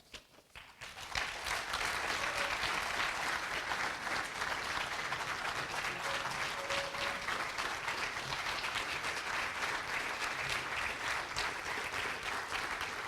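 A banquet audience applauds the 2019 Hall of Fame class with steady, dense clapping from a large crowd. It swells in after the first second and holds evenly throughout.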